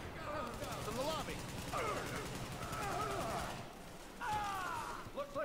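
Gunfire in the video game The Division during a firefight at the Russian Consulate: continuous rattling shots under overlapping voices shouting, dense and steady throughout.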